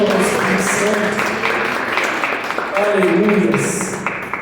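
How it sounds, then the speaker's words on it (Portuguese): Church congregation clapping during a worship service, a steady wash of applause filling the whole stretch, with a preacher's voice and shouts layered over it. "Aplaudam ao Senhor, aplaudam a Jesus, aplaudam ao Espírito Santo."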